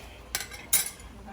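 A utensil clinks twice against a bowl while Haitian patty filling is mixed, two sharp metallic taps close by over a quiet background.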